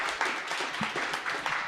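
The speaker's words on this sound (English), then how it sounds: "I think you deserve a round of applause for that." An audience claps in a short round of applause after a discussion talk, the dense patter of hands fairly steady, moderately close, with a faint voice or two mixed in.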